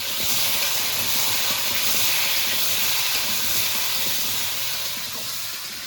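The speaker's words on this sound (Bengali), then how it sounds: "আলুর মধ্যে সামান্য একটু লবণ দিয়ে দেবো লবণ দিয়ে দিয়েছি আলুটা একটু সুন্দর করে ভেজে নেব" Salted potatoes fry in a pan with a loud, continuous hissing sizzle that holds steady close by, fading slightly toward the end.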